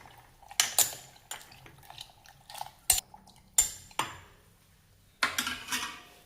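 A spoon stirring bitter gourd pickle with vinegar, a series of sharp metallic scrapes and clinks against the container in uneven bursts, close and fairly quiet, with no talking.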